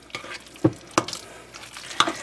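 A spoon stirs a meat mixture for chimichangas in a pan, with a few scraping strokes and light clinks against the pan over a soft sizzle, close and unaccompanied by talk.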